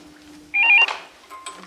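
A telephone rings in a Pakistani TV drama household scene: one short, fairly loud electronic ring burst, followed moments later by a fainter tone, with no voices over it.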